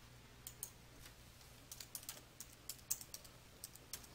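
Someone typing on a computer keyboard while entering text into a PowerPoint 2016 SmartArt shape: quiet, close, irregular key clicks in short bursts over a faint steady hum.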